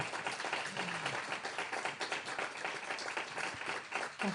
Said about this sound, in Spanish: Ahora sí vamos a pedir un aplauso, que se note que estamos fuera del estudio, para la autora, para vosotros.